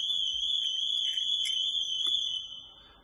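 Cobra van alarm system sounding a loud, steady high-pitched electronic tone with brief pulsing bursts, holding for over two seconds before fading off.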